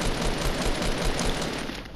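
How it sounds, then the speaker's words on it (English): Shots fired in a Fortnite match, coming as a quick rattle of repeated bursts over two seconds at a steady, fairly loud level. "That's me shooting."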